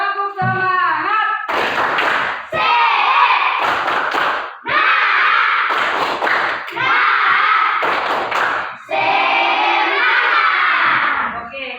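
A classroom of children perform the rhythmic 'tepuk semangat' spirit clap, bursts of patterned clapping mixed with loud chanting and shouting voices, close and lively with brief pauses between phrases.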